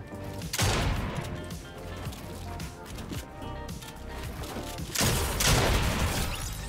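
Boom Sniper shots in Fortnite, loud explosive blasts near the start and again around the five-second mark, with busy game noise and scattered impacts between them.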